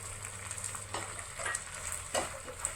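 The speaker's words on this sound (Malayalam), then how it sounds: "ഒടിഞ്ഞു പോകാതെ ഇളക്കി കൊടുക്കുക." Chopped idli with capsicum tossed and stirred in a hot pan for street-style kothu idli, a steady close sizzle broken by several scraping stir strokes, with no one talking.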